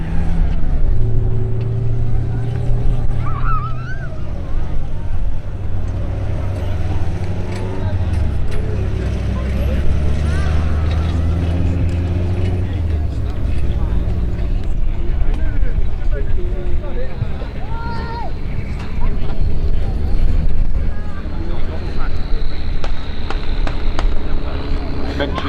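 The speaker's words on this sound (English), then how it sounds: "there we've got long wheelbase Land Rovers" Long-wheelbase Land Rover four-wheel-drive military ambulances with tall box bodies drive past at an outdoor vehicle event, a continuous deep engine rumble rising and falling as each passes, with someone talking over it throughout.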